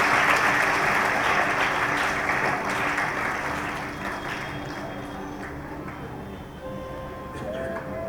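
Loud applause from a school audience of children welcoming a guest at an Independence Day cultural program at a girls' college, dense steady clapping that slowly thins and quiets toward the end.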